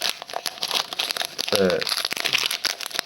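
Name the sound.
opening foil wrapper of Pokemon booster pack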